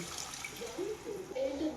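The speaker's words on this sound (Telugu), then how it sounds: "తగిన నీళ్ళు పోసేస్తానండి" Water is poured into a pot of chicken curry (kodi curry) in a home kitchen, making a brief, soft trickling splash heard at close range.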